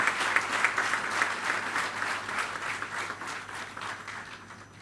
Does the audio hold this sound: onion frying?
no